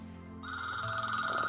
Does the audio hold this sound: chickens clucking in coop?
no